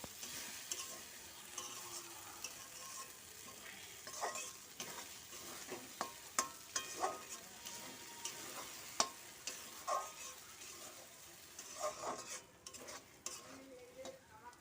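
Quiet stirring of an egg and carrot pudding mixture with sour yogurt in a pan: soft scrapes and irregular clicks of a spoon against the pan over a faint background hiss, with no voices.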